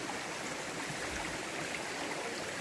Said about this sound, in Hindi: ये जो आवाज़ आ रही है ना पानी की, इट्स थेरापी फॉर मी.